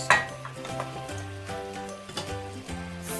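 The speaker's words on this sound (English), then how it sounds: "stir that through, coat it in the masala." Hilsa fish being stirred into a gourd curry with masala in a pan, with a sharp clink at the start and then irregular soft scrapes and knocks of utensil against pan, close and fairly quiet.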